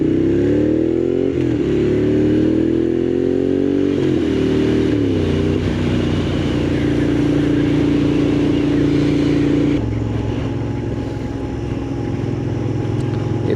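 A Moto Guzzi Griso motorcycle engine drones steadily and loud while riding, rising in pitch through the gears, then holds a constant hum with wind roar.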